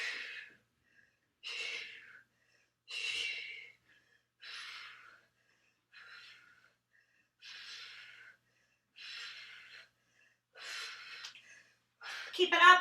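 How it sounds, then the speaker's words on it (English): Heavy, forceful exhalations from a person doing crunches and sit-ups in a full boot camp workout, with about nine breathy puffs at a steady rhythm and short silent gaps, close and fairly loud. "So you can hear me every time I'm breathing."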